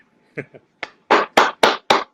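A few claps for a gentleman start sparse and quickly settle into a loud, steady rhythm of single sharp claps, close and with no talk over them.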